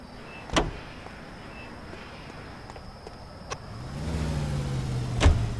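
Car driven in L.A. Noire, a door thunk and a few clicks, then a low engine rumble rising as the car pulls away, ending in another thump.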